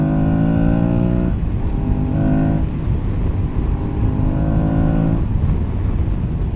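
An Aprilia Tuareg 660 motorcycle engine is heard while riding, rising in pitch as it revs through the gears, with two clear upshift breaks, loud and close throughout.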